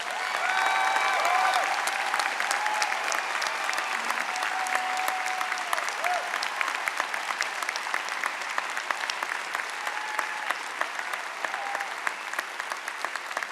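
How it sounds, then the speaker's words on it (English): Sustained applause from a large graduation audience honoring student award winners at a university ceremony, steady and dense throughout with a few faint voices briefly audible near the start. "Please join me in honoring their accomplishments with wild applause."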